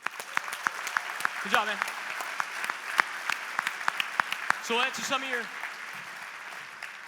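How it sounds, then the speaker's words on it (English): An audience at a marketing summit gives a presenter a round of applause, moderate scattered clapping continuing beneath a man's spoken remarks. "let's give this guy a round of applause"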